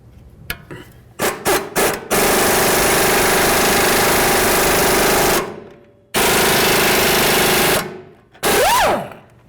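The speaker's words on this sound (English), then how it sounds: "I'm going to remove this 18mm nut." Power tool spinning off an 18mm sway bar link nut on a 2007-2012 Nissan Altima front suspension, a few short bursts followed by long loud sustained runs with a pause between and a final winding-down whine.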